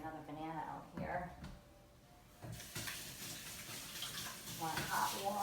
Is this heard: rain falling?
no